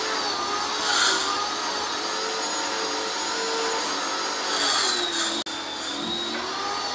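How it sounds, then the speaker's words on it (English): A power washer runs steadily in the background during house cleaning outdoors, a constant broad whining drone that stays loud and even throughout, with a brief dropout near the end. "that horrible sound you hear in the background, that's the power washer going right now."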